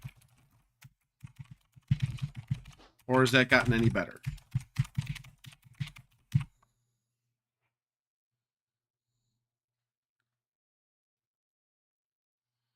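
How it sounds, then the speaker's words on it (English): Rapid clattering keystrokes on a computer keyboard come in dense bursts while a person talks over them, then stop abruptly, leaving silence for the last half. "can you hear a bunch of typing"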